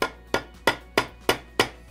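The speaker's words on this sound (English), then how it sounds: "what we're going to do is just tap those and start mushrooming the outside of that rivet out" Six sharp metallic taps of a ball peen hammer mushrooming a rivet, evenly spaced and close up, each ringing briefly before the next.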